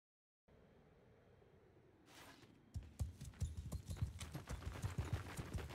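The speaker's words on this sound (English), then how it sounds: "Oh, they have horses." Horses galloping in the Mount and Blade II: Bannerlord video game, a rising, dense run of hoof clip-clops that swells to a loud rhythmic pounding as the riders close in.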